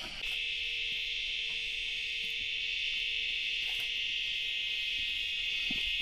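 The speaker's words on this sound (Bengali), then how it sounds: "চারিদিকে শুধু ঝিঝি পোকা, পাখির আওয়াজ, আর পুরো শান্ত এলাকা" Crickets chirp in a continuous, even high trill through quiet hills after rain, steady and fairly near with no voices or traffic, joined by a faint thin tone.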